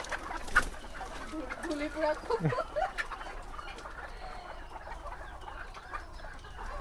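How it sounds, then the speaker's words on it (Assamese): Local-breed chickens on a poultry farm cluck and murmur close by, a few sharp calls standing out early, over a low background hum with little else. "মুৰ্গী ওলাই গৈ আছে চাওক বাহিৰলৈ"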